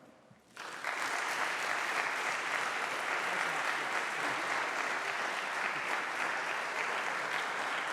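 An audience at a college chapel bursts into sustained applause after a brief quiet moment, dense, even clapping continuing steadily throughout.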